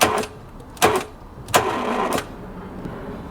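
A Range Rover Sport engine cranks over with a seized or non-turning camshaft, giving three rough starter bursts with pauses between them, moderately loud and close.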